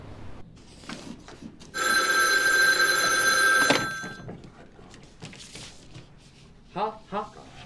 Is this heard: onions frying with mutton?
no